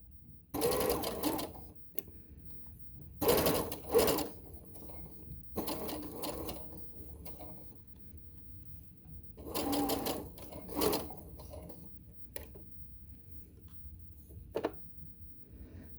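Short, separated bursts of a sewing machine stitch a seam on a child's dress along the binding edge, each run a few seconds long with quiet stretches between, fairly soft and close.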